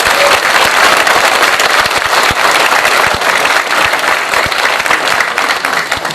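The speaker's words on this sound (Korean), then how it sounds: "우리 모두 이 자리에서 쌍수를 들어 윤 대통령에게 지지와 환영의 박수를 쳐야 한다고 보는데" Loud, dense applause from an audience at a memorial ceremony for President Syngman Rhee in the Hyeonchung Hall of Seoul National Cemetery, a sustained roar of clapping hands with scattered sharper claps throughout.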